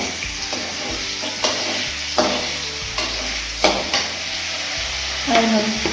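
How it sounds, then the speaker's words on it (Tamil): Cumin, pepper and cloves sauté in hot oil as a spoon stirs them, giving a steady sizzle broken by scraping strokes and a few light clinks against the pan for chicken gravy. "சீரக மிளகு இதெல்லாம் கொஞ்சம் வதங்க வருது அப்புறம் வெங்காயம் போட்டு வதக்கிக்கலாம்"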